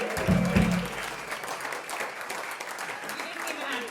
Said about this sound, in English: You didn't even have to tell the audience to give themselves a round of applause. They already did it.